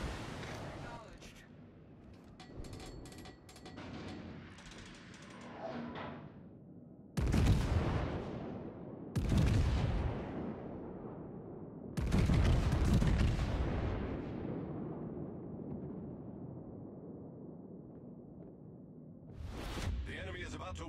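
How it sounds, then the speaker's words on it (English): Naval artillery in World of Warships booms in heavy, deep salvos, three big blasts with long rumbling decays and another at the end, over quieter background battle noise. "Concentrate fire on the enemy warship."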